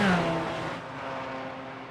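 A GT4 race car in a Monza sim racing game roars hard as it accelerates onto the long straight, engine pitch climbing at first and then holding a steady, loud drone for the rest of the clip.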